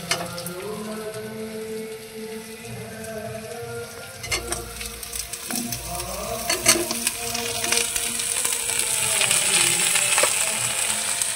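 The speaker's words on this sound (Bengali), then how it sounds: "এখন কেটে রাখা অল্প ফুলকপি দিয়ে দিই" Vegetables sizzling steadily in a frying pan as cut cauliflower joins potatoes, carrots and long beans, a continuous close hiss with stirring clatter and bright crackle growing louder toward the end, no voices.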